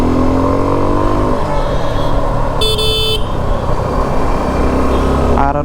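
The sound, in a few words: Suzuki V-Strom SX 250 motorcycle engine sound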